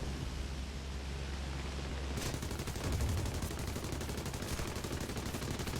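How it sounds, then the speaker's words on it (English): Front gun of a Blenheim Mk IV bomber firing in War Thunder, a sudden rapid rattling burst of machine-gun fire that starts partway through and continues steadily over engine drone. "Let's see if we can get him with a front gun."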